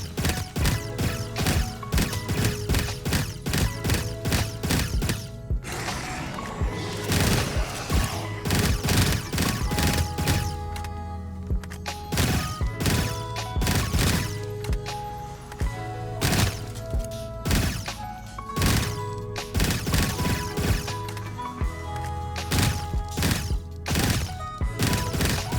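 An FN FAL marksman rifle fires in Korrupt Zombies, loud sharp shots in rapid repeated bursts over a game soundtrack, with mechanical reload clatter between volleys.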